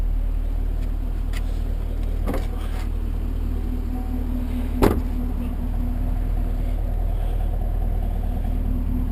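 A 2019 Chevy Camaro 2SS idles through its dual mode exhaust, giving a steady low rumble, with a couple of faint clicks and one sharp knock partway through.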